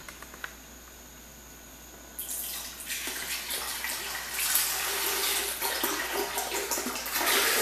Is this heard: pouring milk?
yes